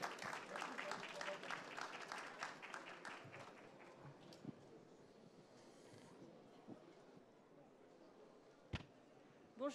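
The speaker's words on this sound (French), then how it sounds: "shun, présidente du quotidien de La Réunion, sous vos applaudissements bien nourris, s'il vous plaît." An audience applauds at an inauguration speech event, with fairly faint, dense clapping that thins out and fades into room murmur and a few scattered knocks.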